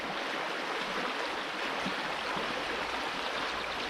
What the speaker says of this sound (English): Let the sluice clean itself out a little bit.